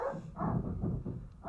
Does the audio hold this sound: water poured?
no